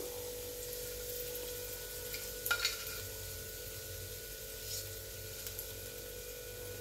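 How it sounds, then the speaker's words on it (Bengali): Broken vermicelli stirred and lightly fried in ghee over low gas for a Bengali sweet, giving a steady soft sizzle with gentle scraping stirs and a brief sharp clink near the middle, no talk. "এটাকে গ্যাসটা সিম করে আমি একটু ভাজা করে নেব।"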